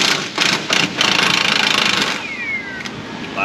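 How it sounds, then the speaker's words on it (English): A wrench works a cross member bolt loose on an OBS Ford F150 with a stripped starter and flywheel, giving a loud, steady mechanical whirring and rattling, followed by a few fainter squeaks. "Let's get the wrench on the bolt"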